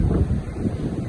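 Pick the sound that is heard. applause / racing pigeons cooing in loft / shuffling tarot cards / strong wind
strong wind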